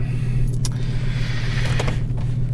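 A Jaguar car idles with a steady low engine rumble throughout after starting up, a couple of faint higher clicks or whirs riding on top.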